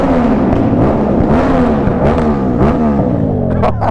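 A motorcycle engine drones loudly and close while riding, its pitch rising and falling through gear changes, with brief bursts of wind noise and no talking.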